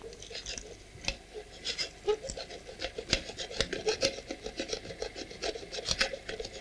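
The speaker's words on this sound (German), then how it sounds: "Zum Schluss wird noch einmal das scharfkantige Gerät herangeholt, um die letzten überstehenden Teile abzuschaben." A sharp-edged tool scrapes an engraved pewter plate in a steady series of close, rasping strokes with small clicks and ticks, moderately quiet throughout.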